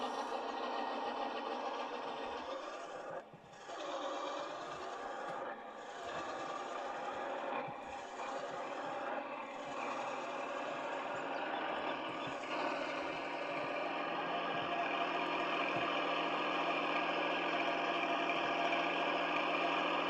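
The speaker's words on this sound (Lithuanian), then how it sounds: "Gražus traktoriukas, taip." A small tractor's engine runs steadily with a constant mechanical drone and rattling texture throughout, close and fairly loud, with a few brief dips early on and no talk.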